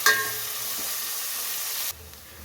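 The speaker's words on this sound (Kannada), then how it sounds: "ಇದನ್ನೆಲ್ಲ ಇವಾಗ ಚೆನ್ನಾಗಿ ಫ್ರೈ ಮಾಡ್ತಾಯಿದ್ದೀನಿ" Onions and mixed vegetables for vegetable sambar frying in a pan: a steady, close sizzle with a sharp stir at the start, then cutting off abruptly to quiet near the end.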